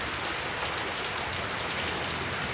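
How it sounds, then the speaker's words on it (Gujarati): Village rainfall hisses on without a break, a thick wash of drops hitting roofs and ground at an even loudness. "કેવો મજાનો વરસાદ આવે છે"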